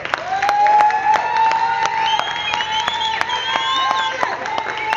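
Steady clapping from a large church congregation, dense and continuous throughout, with voices and cheering mixed into the applause.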